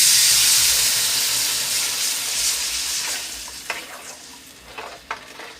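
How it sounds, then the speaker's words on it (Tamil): Onions, green chillies and curry leaves sautéing in a pan for fish curry, a loud close hiss and sizzle that slowly eases, with a few scraping stirs near the end. "இப்போ நல்லா வெங்காயம், பச்சை மிளகாய், கருவேப்பிலையெல்லாம் வதங்குங்க"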